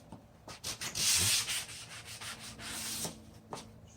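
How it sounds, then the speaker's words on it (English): A glued wooden piece being hand-sanded for a woodworking jig, steady close rubbing strokes with a louder burst near the start, then shorter scrapes and pauses, no talking. "With our piece clean, I'm going to give it a quick sanding."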